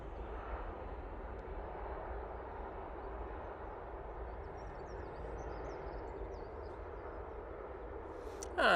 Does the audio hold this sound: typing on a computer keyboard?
no